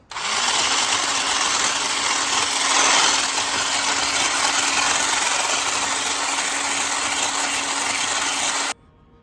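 An electric mixer runs on low speed through gluten-free, animal-based tortilla ingredients, a steady, loud whirring motor hum with a constant tone that holds for about eight seconds and then cuts off abruptly.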